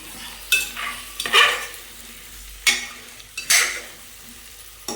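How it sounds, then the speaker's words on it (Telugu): Tomato curry being stirred in a pan, a few distinct scraping strokes of a spoon against the metal at irregular intervals over a soft, low sizzle, close and clear with no talking. "కలుపుకోవాలండి."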